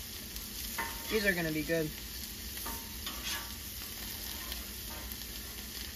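Northern pike fillets frying in a pan, a steady low sizzle running throughout with a few stirring or flipping scrapes near the start, while a person talks briefly.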